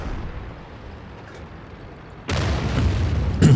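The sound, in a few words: tank explosion as enemy vehicle is destroyed in World of Tanks video game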